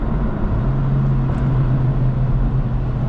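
Stock Honda Civic cars driving past at a dyno day cruise, a dense, steady engine and road roar that stays loud and close throughout with no voices over it.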